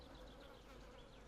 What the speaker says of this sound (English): I can hear bees.